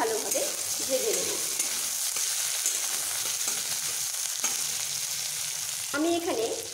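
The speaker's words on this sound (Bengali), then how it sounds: "পেঁয়াজ ও টমেটোগুলোকে এবার একসঙ্গে একটু ভালোভাবে ভেজে নেব।" Onions and tomatoes frying together in a pan for a ridge gourd dish, a steady close sizzle with occasional stirring scrapes and clatter, no talking.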